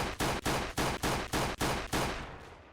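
Automatic Glock 18 pistol fire in the Roblox game Oretary: a rapid string of about seven loud, sharp shots in even rhythm, the last trailing off into a short decaying tail, with no talking.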